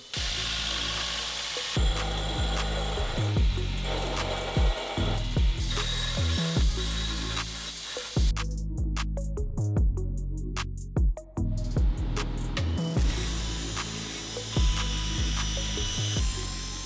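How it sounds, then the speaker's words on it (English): A grinder pre-grinding steel pieces before heat treatment makes a loud, continuous abrasive whine, broken by repeated surges and brief easings as the metal is pressed on and lifted off. "head over to the grinder and do the pre-grind for the heat treat"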